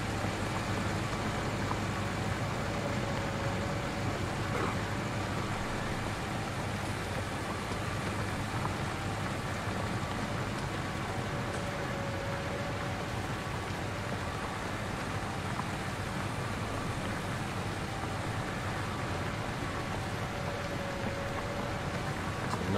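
John Deere 6R tractor engine in Farming Simulator 19, a steady, continuous drone with a low rumble and faint whine held at even loudness throughout, with no voices.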